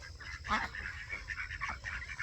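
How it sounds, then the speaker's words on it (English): Several ducks or geese honk and quack in a busy cluster, fairly close, with repeated overlapping calls over a low background rumble. "We got a bunch of fancy ducks right here."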